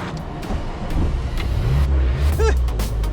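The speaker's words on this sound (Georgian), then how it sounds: "ამ მანქანის ხმები უფრო და უფრო იმატეს" An old car engine runs with a low, rough rumble close by, steady and loud, with a brief squeal partway through.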